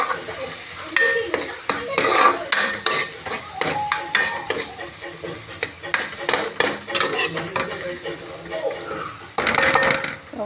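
Fresh ginger garlic paste is stirred through hot oil in a pan for a chicken curry, a spoon scraping and clinking against the metal in repeated strokes over a steady close sizzle.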